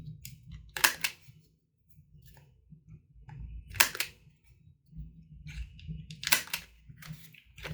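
A 1/4 inch corner rounder punches through a paper journaling card three times, each a sharp, crisp snap spaced a few seconds apart, close and clear against a quiet background.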